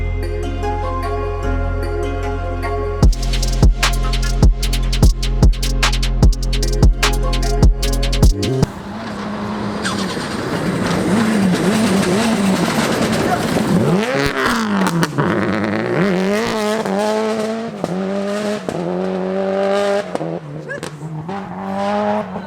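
A drag race car at a DRC Sprint event, heard loud and close: staged revving pulses, then a roaring launch and hard acceleration with rising engine tones and gear changes that fade into the distance.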